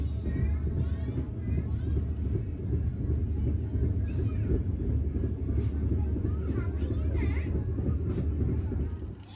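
Inside a Serayu economy-class train halted at Ciamis station, a steady low rumble of the idling train fills the carriage while children and other passengers chatter in the background.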